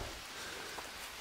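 Steady rain in the jungle survival game Green Hell, a soft continuous patter of drops falling on surfaces, even and unbroken throughout with no voices.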